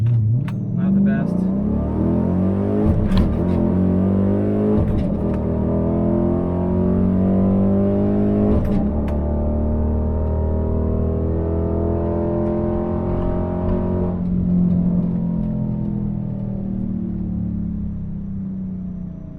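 A race car launches at a track, its engine bogging slightly, then revs up and accelerates away, its pitch climbing through gear changes, loud and close, with a deep rumble underneath.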